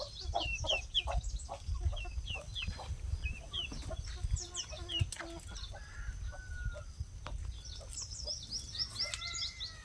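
Chickens cluck continuously on a poultry farm that also keeps turkeys and Giriraja fowl, with busy overlapping calls, a few crowing rooster notes and low background rumble throughout.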